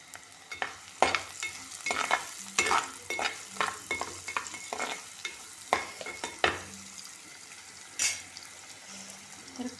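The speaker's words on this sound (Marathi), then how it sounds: "तर आता ह्याच्यामध्ये हा कांदा घालायचा। ह्याच्यामध्ये कांदा जास्त घालायची काही गरज" Onion frying in a pan for a Marathi colocasia-leaf vegetable dish. A continuous sizzle is punctuated by repeated sharp scraping strokes of a spoon stirring, close and clear, with no talking.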